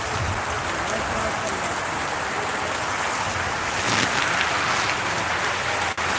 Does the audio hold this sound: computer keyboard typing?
no